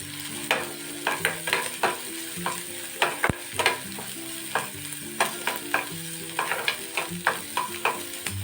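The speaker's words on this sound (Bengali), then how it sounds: "এবার আমি নেড়ে নেব।" A spoon stirs ginger, green chillies, garlic and red chillies frying in a pan, with repeated scraping clacks over a steady low sizzle, close and moderately loud, with no talk.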